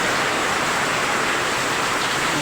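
Heavy rain pours down outside during flooding in the Philippines, a dense, steady, loud rushing roar that fills the whole stretch with no break and no voices.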